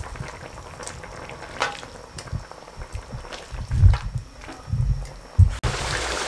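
Tomatoes boiling in water in a pan over a high flame bubble loudly and close by, with irregular bursts and a couple of sharper knocks.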